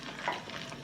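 Chicken for mango and pineapple habanero wings fries in a pan, giving a steady, close hiss of sizzling oil through the whole short moment, with no voices.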